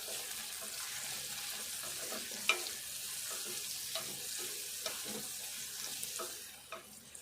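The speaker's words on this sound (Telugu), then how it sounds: "ఈ తాలింపు అంతా దూరగా వేపుకుందాము." Tempering spices frying in a pan with turmeric for a moong dal and tomato curry, a steady broadband sizzle and crackle running throughout with faint stirring clicks and scrapes.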